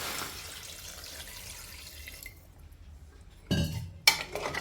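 Water is poured into a pot of mutton that had been mixed in oil, a sudden splashing burst near the end after a quiet kitchen stretch, followed by a brief clatter.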